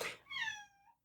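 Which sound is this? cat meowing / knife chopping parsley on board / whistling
cat meowing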